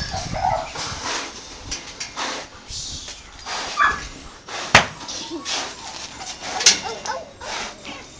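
A lively dog whimpers and gives a few sharp yips and barks, scattered through the clip, with people talking nearby.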